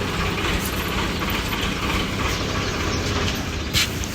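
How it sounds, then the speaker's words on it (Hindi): A tractor approaches with a continuous, rattling, mechanical rumble that stays close and fairly loud throughout. "ट्रैक्टर आ रहा है सामने।"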